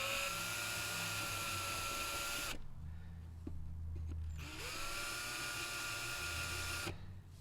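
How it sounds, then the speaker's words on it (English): A power drill bores out holes in the grille of a 1974 Chevrolet Blazer with a loud, steady high-pitched whine in two long bursts, separated by a brief pause with quieter low rumbling. "I'm going to go ahead and drill these 2 holes out"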